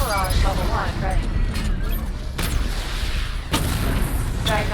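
Batmobile firing a missile barrage in Batman: Arkham Knight, a dense rumbling roar of launches and booms with sharp bursts near the middle and end, under in-game talk.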